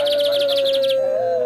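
A shiny cowbird chick chirps rapidly in a quick series of high notes for about a second, close by, over a steady tonal hum.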